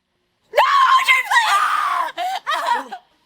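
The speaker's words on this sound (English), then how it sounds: "you're screaming" A woman screams loudly and close up, one long shaky cry followed by two shorter bursts, with nothing else around it.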